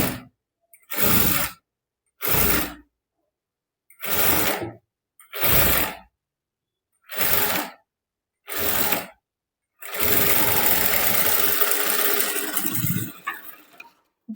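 A sewing machine stitches a prince-cut blouse for a 28-inch waist. Six short, loud runs of stitching are separated by pauses, then one longer continuous run winds down.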